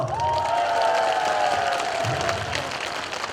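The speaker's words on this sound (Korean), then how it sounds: "될것 같다시는 분만 박수!" An audience at a pumba performance during a folk street-performer festival claps and cheers. The applause is loud and sustained, with a bright whistle-like tone sliding through it and scattered shouts on top.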